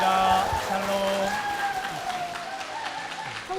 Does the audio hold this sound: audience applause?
yes